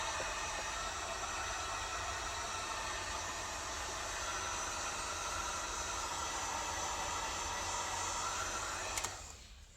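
Hot air blows steadily to heat glue and loosen interior trim in a Jaguar F-Type, a continuous close hiss that holds evenly before cutting off near the end.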